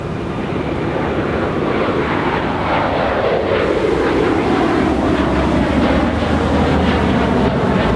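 Jet airliner at Los Angeles International Airport, a loud steady engine roar that swells and shifts pitch as the plane passes, continuous for the whole stretch with no talking.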